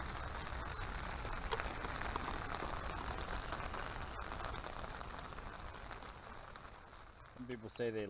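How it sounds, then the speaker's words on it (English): Rain patters steadily onto surfaces along an outdoor trail, a dense close hiss that stays even before thinning near the end, where a voice speaks. "And just like that, it starts to rain."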